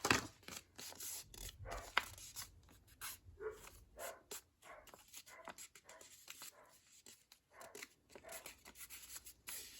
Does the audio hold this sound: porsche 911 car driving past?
no